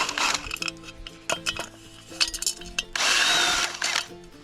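A power tool removing bolts from a wheelbarrow wheel, with brief whirring bursts, metallic clinks and rattles, and a longer buzzing run near the end, heard close up with no talking.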